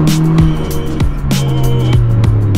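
A Kia Ceed GT brakes hard on a winding mountain road, tires squealing in short repeated bursts over a steady engine drone, heard from inside the car without talk.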